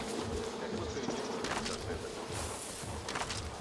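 Bees in the video game Far Cry New Dawn buzz in a steady, close drone, with brief higher chirps rising over the hum.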